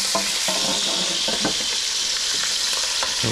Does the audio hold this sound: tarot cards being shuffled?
no